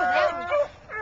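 A young hound yips in three short, high, whiny bursts, close by and fairly loud.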